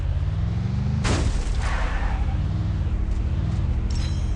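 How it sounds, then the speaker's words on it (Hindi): Enemy gunfire in Free Fire over a constant vehicle engine drone, with one loud sharp crack near the start and fainter scattered shots trailing after. "फायर कर रहा है बंदा तुमको"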